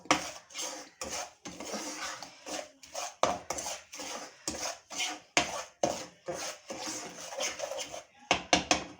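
A spoon scrapes and clatters in a pan as sugar is worked into dry roasted gram flour for egg halwa, giving steady, rhythmic scraping strokes with brief pauses, close and fairly loud, with no talk.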